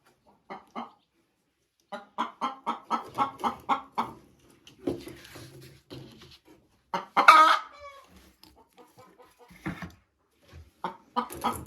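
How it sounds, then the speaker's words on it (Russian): Hens cluck loudly after laying eggs, a close series of repeated rhythmic clucks and cackles rising into an excited squawk, with other chickens calling around them and no human voice. "Вот так куры выходят из гнезда и сообщают о том, что они снесли яйцо."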